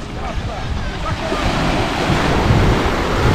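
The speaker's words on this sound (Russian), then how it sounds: "Вот, ветерок, наверное, для Жика сильный" A strong sea breeze blows at the shore near Lazarevskoye, Sochi, as a steady, loud roar of wind buffeting the microphone mixed with surf, constant throughout.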